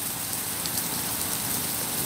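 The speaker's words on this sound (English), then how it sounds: "So it's actually a moderate amount of rain." Moderate rain falling outdoors, a steady dense hiss of drops hitting surfaces, even and continuous with no voices.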